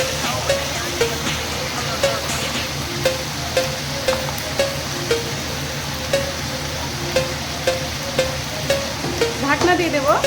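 Dulali greens tossed into a pan of browned onions and fried: a steady sizzle with regular scraping stir strokes of a spatula against the pan, close and moderately loud, with no speech.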